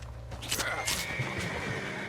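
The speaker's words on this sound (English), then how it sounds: "What's got this horse spooked, huh?" A horse neighs loudly and shrilly in Red Dead Redemption 2, a rising whinny over soft hoof thumps and faint background game ambience.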